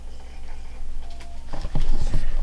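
Panasonic 3DO FZ-10 console disc drive straining to read a disc with its laser stuck in place, giving a steady low hum with faint whirring, then louder irregular clicks and mechanical rattling in the second half, close by.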